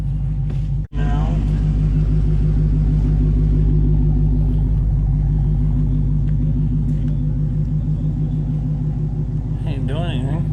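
The engine of a crashed Dodge Hellcat idles with a deep, steady, loud rumble throughout, close up, and a voice talks over it.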